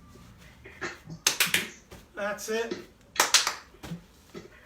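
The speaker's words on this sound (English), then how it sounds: "you can try and clap." Participants in a seated chair workout for older adults clap a few sharp, brief hand claps in irregular bursts, heard close up and mixed with an instructor's spoken encouragement.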